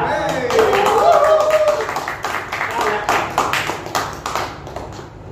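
A small group on a Marathi TV serial set breaks into scattered, uneven clapping after a voice speaks at the start. The claps are close and sharp and continue to the end.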